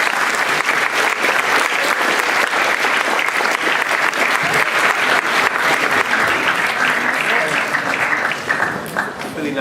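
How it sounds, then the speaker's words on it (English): Sustained audience applause at a talk, dense and loud clapping from a crowd that carries steadily for nearly ten seconds before beginning to thin out at the very end, with some voices mixed into the noise. "Give yourselves a round of applause."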